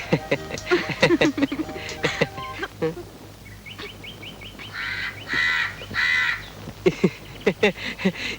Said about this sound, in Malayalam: ഇവൻ കാക്കയുടെ ഒരു തമാശ.